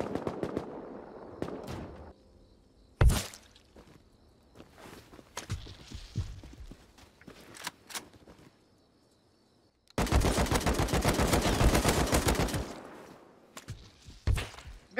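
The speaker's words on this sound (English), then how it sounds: "I'm getting silenced bolted from somewhere" Gunfire rings out in a multiplayer shooter, with suppressed bolt-action rifle shots as sharp, separate cracks, a few footstep-like taps between them, and then a rapid, sustained volley of shots near the end.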